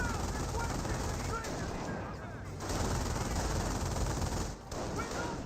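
Sustained machine-gun and rifle fire pours onto an infantry half-track in a Company of Heroes battle, a dense continuous fusillade at steady loudness with brief dips.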